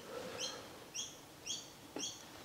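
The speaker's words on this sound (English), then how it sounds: "Those birds are certainly noisy." Small birds chirp outdoors among gum trees on a sunny day, repeating short bright calls about every half second over a steady background hiss, moderately distant.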